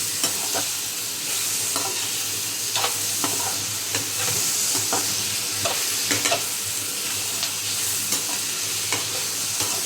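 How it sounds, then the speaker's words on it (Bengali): Spice paste and onions being stirred and fried in a pan for a hilsa-head kalia with eggplant. A steady, loud sizzle runs throughout, with frequent scraping strokes from the spoon and no talking. "নিয়ে এবার মশলাটাকে পুরো কষাবো পেঁয়াজের সাথে।"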